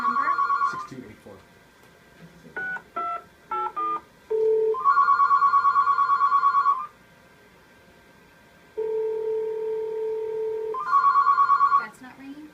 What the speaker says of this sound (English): This is a real call. You can see it's ringing.